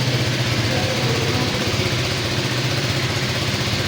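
A KTM 390 Adventure motorcycle idles in a showroom with a steady, low, pulsing engine rumble close by and no other sound over it.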